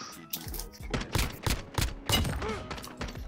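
M4 rifle fire in Modern Warfare: several sharp, loud bursts of shots spaced through a few seconds, close and punchy, with brief quiet gaps between volleys.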